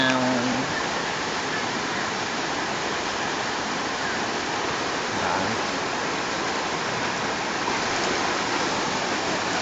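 Typhoon Ondoy floodwater rushing through a flooded neighbourhood in October 2009, a loud, constant torrent-like roar that continues without pause, with faint voices briefly heard at the start.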